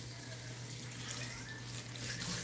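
Water pours from a tap into a pot for making gari, a steady, fairly quiet hiss with a low hum beneath it and no talking.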